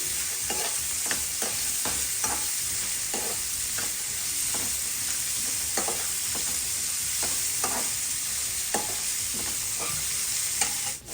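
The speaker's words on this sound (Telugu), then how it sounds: "ఆనియన్స్ బాగా ఫ్రై చేసుకోవాలి" Onions fry in a pan for upma, giving a continuous close sizzling hiss broken by regular scraping strokes of a stirring spoon, with no one talking.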